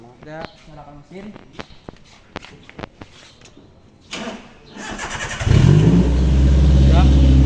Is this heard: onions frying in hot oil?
no